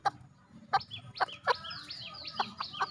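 A young Dong Tao (Ton Jo) chicken, kept penned with same-age hens, gives a run of close, repeated clucks in short bursts, with soft chirping calls between them.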